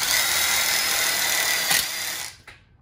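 A power drill drives screws into metal connector plates while a wrap-around backsplash and split bar kit is assembled, a loud, close whine running steadily before cutting off near the end.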